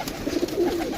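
Cooing from caged Teddy pigeons kept as pairs, low soft rolling coos repeating steadily through the second, close by, with no talk.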